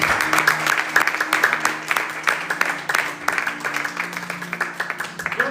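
A church congregation claps together in dense, steady applause that fills the whole stretch, with sustained music droning softly underneath.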